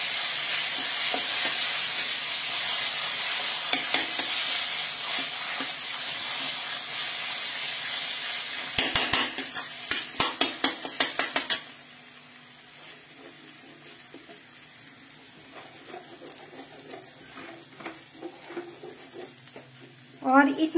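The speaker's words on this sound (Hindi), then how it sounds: "और इसको हम बराबर भूनेंगे। और इधर हम मटर को भी देखते रहेंगे।" Peas stir-fried in a pan give a steady, close sizzle and hiss, with a burst of spoon clatter and scraping midway before the frying settles into a quieter crackle.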